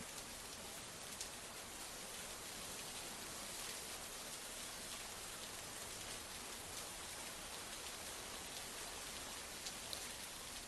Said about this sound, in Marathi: पाऊस कोसळतोय